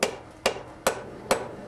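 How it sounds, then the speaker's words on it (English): Hammer blows on a hot steel bar on an anvil during forge welding, five sharp ringing strikes in an even rhythm about half a second apart, close and loud with no talk. "hammering it out on the anvil"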